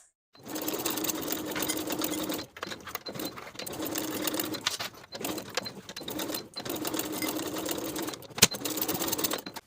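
A sewing machine bastes side pockets onto weekender bag panels in several continuous bursts of rapid needle chatter, separated by short pauses and a small click, close up and alone without talk.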